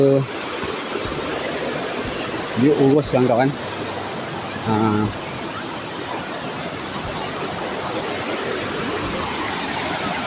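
The Nerja waterfall in Ulu Maras pours in a steady, loud broadband rush that fills the whole scene on a Hari Raya visit, and someone speaks briefly over the roar of the water.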